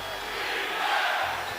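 An arena crowd at a Knicks vs Celtics basketball playoff game roars steadily throughout, a dense wash of cheering and shouting with no pauses.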